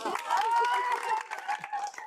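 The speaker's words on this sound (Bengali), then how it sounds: "ওনার জন্য জোরে একটা করতালি" Applause and cheering from a village crowd for the last remaining player at a rural game, a short burst of clapping mixed with voices.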